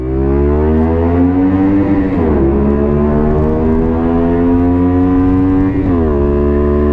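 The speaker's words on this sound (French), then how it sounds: "Est-ce que vous voulez entendre le pot dominateur" Honda Varadero 125 twin-cylinder motorcycle exhaust idling loud and close, with a steady throaty drone that dips and swells into rev blips around two and six seconds.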